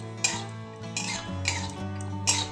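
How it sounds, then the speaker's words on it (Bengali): Peanuts fried and stirred in oil in a pan, with a utensil clinking and scraping against the metal in a few bursts over steady background music. "এটা তবু আমি একটু তেলের ওপর ভেজে নিচ্ছি।"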